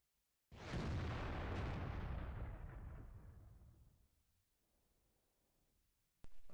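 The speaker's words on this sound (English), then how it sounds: "That's our arty firing." A single heavy artillery blast in a tank video game, a loud close boom that rolls and decays over several seconds, then a faint rumble and a sudden new burst at the end.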